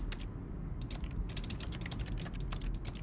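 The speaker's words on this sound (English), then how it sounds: "Let's just do some typing." Rapid clicking keystrokes on a computer keyboard in The Stanley Parable video game, a steady near clatter of many keys over a low constant hum, with no talk.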